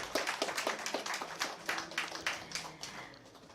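Audience clapping at a hospital inauguration in an indoor hall, a brief burst of scattered, moderately loud handclaps from a small crowd that thins and fades toward the end, with faint tonal hum underneath.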